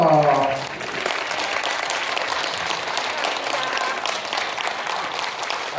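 An audience applauds after a deep bow. A voice speaks briefly at the start, then sustained, full-room clapping continues steadily at a strong level.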